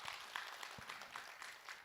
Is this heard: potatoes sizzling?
no